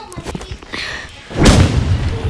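A single heavy sniper rifle shot booms in a first-person shooter game, a loud thump with a short rumbling tail, following brief talk.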